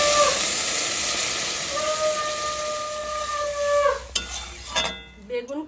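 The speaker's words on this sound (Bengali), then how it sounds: "এবার আমি জল দিয়ে দেবো।" Water is poured into a pan of lightly fried spiced eggplant, setting off a loud steady hiss and sizzle with whistling steam tones, followed by sharp clattering stirs near the end.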